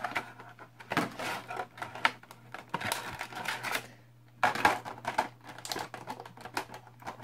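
Packaging for a metal Ninja Turtle figure, a Donatello, is torn and rustled open in quick, irregular bursts of crinkling and clicking, close by with brief pauses and no voices.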